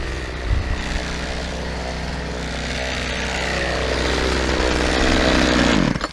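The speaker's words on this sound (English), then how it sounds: "It's half Poulan, half Craftsman, 25-year-old chainsaw." A 25-year-old chainsaw built half from Poulan and half from Craftsman parts cutting a storm-downed tree, a loud buzzing two-stroke drone that climbs steadily in pitch under load before cutting off.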